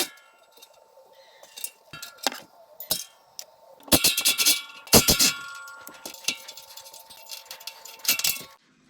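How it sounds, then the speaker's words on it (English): Metal wrenches clank and click against the side bolts of a Can-Am X3 muffler, bursts of ringing metallic ratcheting and taps, louder and busier in the second half, close and without talk. "So let's get these bolts off and see what's next."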